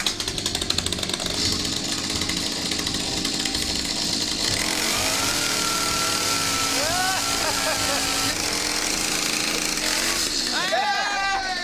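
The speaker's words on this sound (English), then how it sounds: "Paying the DIY store owner to chainsaw and juice all the oranges" A chainsaw cutting oranges at a hardware store in Greece, its engine buzzing loudly and continuously throughout, with revving pitch shifts later on and voices heard beneath the noise.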